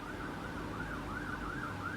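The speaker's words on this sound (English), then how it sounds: "Ambulance passed my house." An ambulance siren wails steadily in a rising-and-falling pattern as it passes a house, fairly loud and continuous over a low background rumble of road traffic, with no voices.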